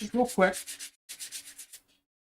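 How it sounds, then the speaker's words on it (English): A sanding block rubs along a leather edge with quick, close strokes, about a dozen short scrapes in two bursts separated by a brief pause, a spoken phrase heard at the start. "I'm going to go over it again with the sanding block,"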